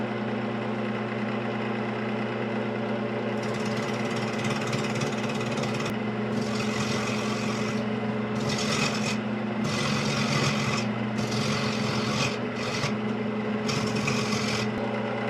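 A wood lathe spins at about 850 rpm for eccentric multi-axis spindle turning, a steady humming drone with a rhythmic rasping tool scrape that comes and goes in bursts, close and continuous with no voices.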